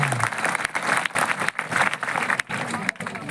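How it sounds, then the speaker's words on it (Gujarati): Audience applause at a Swaminarayan religious assembly, a dense, steady burst of many hands clapping with a few brief pauses, filling the hall for a few seconds without speech. "તાળી પાડો આમ।"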